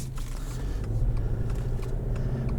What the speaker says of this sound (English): In first gear, put it into second.